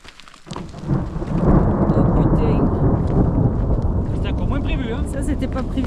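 Thunder follows lightning in the mountains near Pic de la Moleta and lac d'Iserias, a loud, rolling rumble that builds quickly and sustains for several seconds with rain-like hiss, while people talk faintly outdoors.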